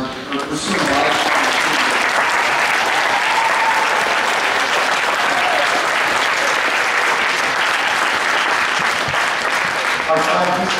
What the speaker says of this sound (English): let's give one more round of applause to these kids for pursuing life